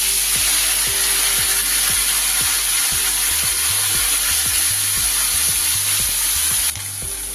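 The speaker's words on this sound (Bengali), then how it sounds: "আগে থেকে নুন হলুদ মাখিয়ে রাখা মাছগুলোকে আমি একবারে হবে না, দুবারে ভেজে নিচ্ছি।" Small fish rubbed with salt and turmeric fry in oil in a wok, a loud, steady hiss with repeated clinks and scrapes of a spatula against the metal, easing slightly near the end.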